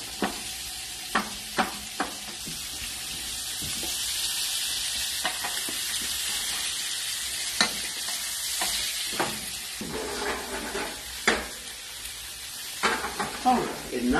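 Chicken cacciatore with olives sautéing in a pan, a steady close hiss and sizzle broken by the scrape and clack of stirring.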